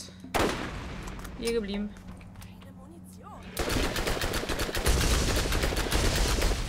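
Gunfire in the Borderlands video game starts as a few isolated shots under a man's short remark, then erupts into rapid, loud sustained automatic fire for the last few seconds.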